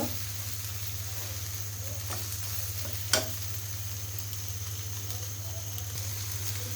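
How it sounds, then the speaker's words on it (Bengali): A large tomato with spices sautés in oil in a home-kitchen pan, giving a steady low sizzle and hiss with occasional soft stirring scrapes and one sharp clack midway, no talking. "এখন আমি টমেটোটা সুন্দর করে হচ্ছে একটু কষিয়ে নিব।"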